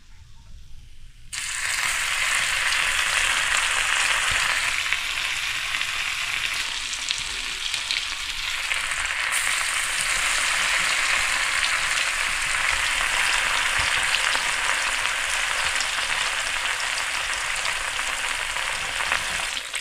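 Pieces of a large barracuda fish fry in oil in a pan, giving a loud, steady broadband sizzle that starts abruptly after a brief quiet moment and continues unbroken to the end.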